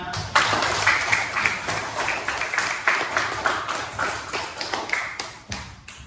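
Clapping in an Indonesian school classroom during a science lesson, a steady patter of many hands that continues with little variation, with brief louder bursts.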